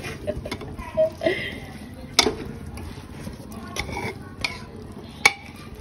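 Finely chopped spinach being stirred in a cooking pot at home, with soft scraping and clinks of the spoon against the metal at irregular intervals, a few sharper knocks standing out over a low background murmur.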